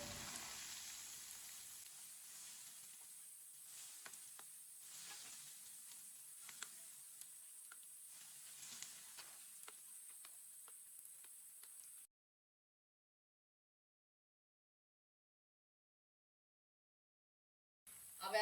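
Methi (fenugreek) kebabs fry and brown in a pan as they are flipped, giving a steady soft sizzle with faint crackles for about twelve seconds before cutting to silence.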